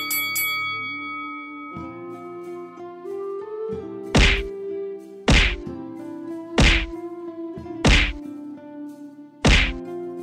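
Male impalas clash their long horns in a mating-season fight on the Maasai Mara: five sharp, loud cracking whacks land at roughly one-second intervals over a sustained musical backdrop.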